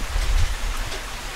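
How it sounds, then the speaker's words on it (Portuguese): Rain falls steadily outdoors on a rural farm, a soft continuous hiss with low rumble, fairly close and even throughout, with no talking. "Tá chovendo aqui, gente."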